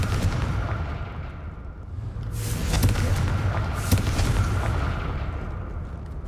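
A Confringo spell blast in the Hogwarts Legacy video game, two sharp explosive bursts over a rumbling backdrop, loud and close, with no talking.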